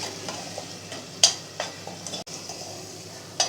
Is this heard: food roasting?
yes